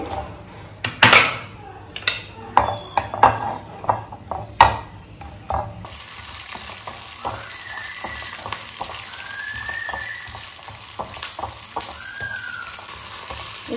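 Green chillies dropped into about two spoons of hot oil in a pan, first a few clatters and scrapes of utensils, then a sudden steady sizzle with sputtering pops that continues to the end.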